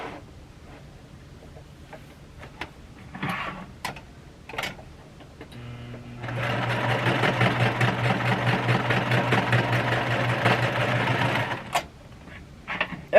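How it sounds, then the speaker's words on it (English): A serger sewing machine stitches skirt pieces together in a steady, fast mechanical whir lasting about five seconds. Quieter ticks and handling sounds come before and after it. "serge them together"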